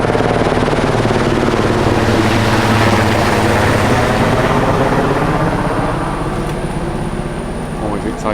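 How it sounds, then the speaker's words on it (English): A helicopter passes overhead on a roadside near Singapore Zoo, its steady rotor thrum loud and continuous throughout, easing slightly toward the end with road noise beneath. "A helicopter going over."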